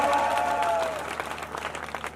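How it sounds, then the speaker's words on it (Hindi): A brief burst of applause from a live comedy-show audience greets a Gujarati bhajan singer, the clapping swelling quickly right after the host's voice trails off. "जोरदार ताली से स्वागत"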